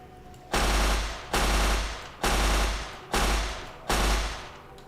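A gun firing in the Minecraft Nuclear Tech mod, five loud, evenly spaced blasts less than a second apart, each ending in a short decaying tail, with no voices.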